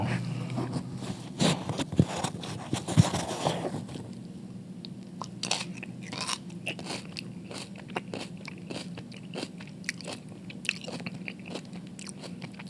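Crisp crunching bites into spicy pickled onions, then repeated close chewing crunches in an irregular rhythm, loud and near, with no talking.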